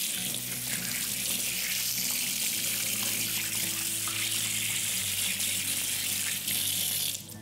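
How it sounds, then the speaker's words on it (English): Carrots are rinsed under a steadily running kitchen tap, giving a continuous close hiss of splashing water with slight shifts as the vegetables move through the stream. "Going to give them a quick wash."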